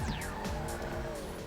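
A Schwartzer sports car in GTA 5 Online, its engine holding a steady high-revving whine while drifting at speed, with faint tire squeal and a sweeping passing-car tone, no talk.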